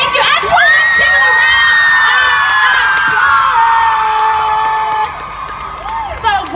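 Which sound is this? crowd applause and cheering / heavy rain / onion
crowd applause and cheering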